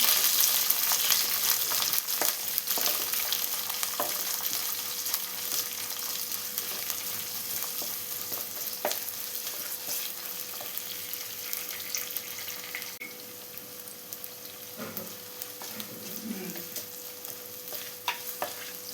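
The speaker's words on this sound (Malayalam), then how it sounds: "ഇനി നമുക്ക് ഒരു സവാള ചെറുതായി ചോപ്പ് ചെയ്ത് വെച്ചതാണ്, അതും കൂടി ചേർത്ത് ഇളക്കി കൊടുക്കണം." Finely chopped onion frying in a pan and stirred for a coconut-free mango-style curry, with continuous close sizzling and repeated spatula scrapes and clicks, no voices.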